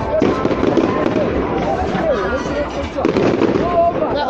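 Fireworks go off on bonfire night, a dense crackling barrage of pops and bursts with whistling rises, while people talk and exclaim over it.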